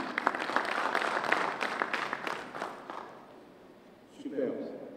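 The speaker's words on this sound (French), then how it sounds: "je pense que vous applaudissez pas assez" Audience applause in a conference hall at an international tourism forum in Meknes, a burst of clapping for about three seconds that fades out, followed by a voice speaking.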